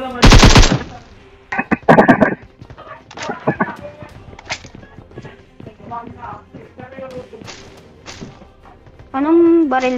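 AK rifle fire in a video game, a loud close burst of automatic shots and later several scattered single shots, with game sounds and a voice talking between them.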